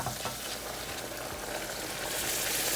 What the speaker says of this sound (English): now we just stir until it all soaks it up and becomes thicker